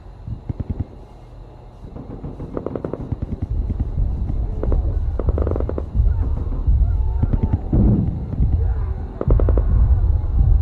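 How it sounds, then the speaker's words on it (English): Gunfire effect in an audio drama: repeated sharp bursts of shots crack out in clusters across the scene, layered over a dense, rumbling background, with no clear talk over them. "It sounded like gunfire, sir."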